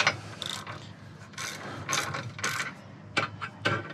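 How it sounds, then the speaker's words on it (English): A ratchet with a deep socket tightens bolts on a receiver-mounted bike rack, giving a series of close, crisp clicking bursts in short strokes with brief pauses between. "get my ratchet going the right way"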